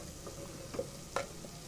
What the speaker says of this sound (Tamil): நல்லா மசாலாவெல்லாம் நல்லா கீமாவோடு சேர்த்து கொஞ்சம் நேரம் வதங்கட்டும்.